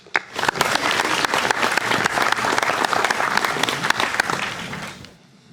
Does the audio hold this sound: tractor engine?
no